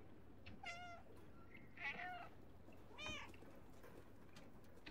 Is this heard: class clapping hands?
no